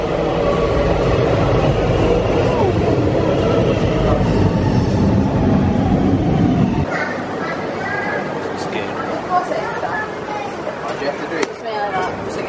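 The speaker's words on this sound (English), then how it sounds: "just waiting for the train" A train rumbles and clatters loudly into a station in Helsinki, the heavy rolling noise fading after several seconds to quieter platform ambience while people chat nearby.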